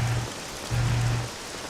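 Steady rain falls in Dragon Quest 7, a dense even hiss of drops on surfaces with a low hum swelling in two short bursts, no voices.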